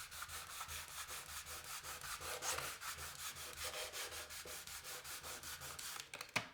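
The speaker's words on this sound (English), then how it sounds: "So with the sandpaper, I'll show you exactly what we're going to be doing to get rid of that run mark." Sandpaper rubs back and forth in quick, regular strokes over a varnish run mark on a timber door, making a close, rhythmic scratchy rasp that continues steadily.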